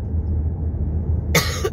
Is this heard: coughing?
yes